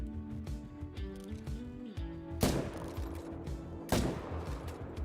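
A rifle in a hunting video game fires two loud, sharp shots about a second and a half apart, cutting through steady background music.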